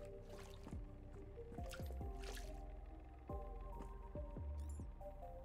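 Water drips and plops from a bucket in the video game SuchArt: Genius Simulator, a rapid series of wet squishy droplets falling one after another at close range, with no voices over it.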